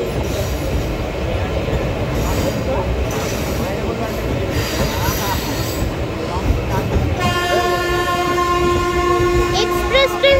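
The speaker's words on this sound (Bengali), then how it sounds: "এটা আসলে শিয়ালদা থেকে কাটোয়ার লোকাল ট্রেন।" A Sealdah–Katwa local train passes close by with a loud, continuous rumble and rattle of wheels on track. Sustained horn blasts sound near the end.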